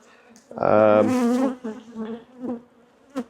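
Honeybees buzz with a loud whining drone up close around a nuc hive, rising and fading as they pass, with a few shorter buzzes trailing off.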